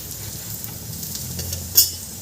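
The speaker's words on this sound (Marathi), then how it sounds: "आता यावर आपल्याला वरून छान तेल लावून घ्यायचं आहे आणि हे दोन्ही बाजूनी छान खरपूस भाजून घ्यायचं आपल्याला" Beetroot paratha roasting in oil on a hot pan, a steady soft sizzle throughout with one brief sharper scrape near the end.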